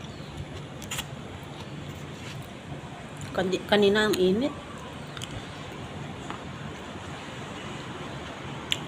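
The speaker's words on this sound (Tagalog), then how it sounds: "Lakas ng hangin dito." Strong wind rushes steadily across the microphone, a constant roar with a brief spoken phrase partway through.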